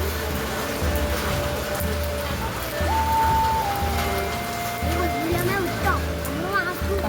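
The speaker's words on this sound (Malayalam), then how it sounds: "അപ്പോൾ നല്ല മഴയാണ്, നമ്മളിവിടെ പെട്ടുപോയി ഗൈസ്." Heavy rain pours down in a steady, dense hiss that fills the whole stretch. Voices and other background sounds come through under the downpour.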